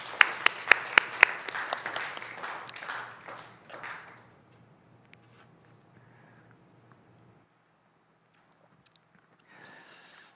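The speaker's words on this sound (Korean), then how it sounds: "이것을 위해 준비하고 애써주신 우리 리더들에게 감사의 박수를 한번." A church congregation at a young adults' Sunday service applauds the leaders, several sharp claps opening into a brief round of clapping that fades out within about four seconds.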